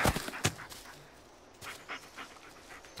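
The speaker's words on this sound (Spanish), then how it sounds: "Mira el perro, ortopédico." A dog pants in the Blair Witch video game, quick breathy huffs close by that come in short runs and then ease off, with no talk over them.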